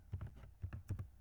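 Typing on a computer keyboard: a quick cluster of soft key taps in short bursts, close and fairly quiet, with no talking over it.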